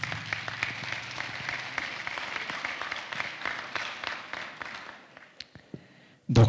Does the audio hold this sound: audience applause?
yes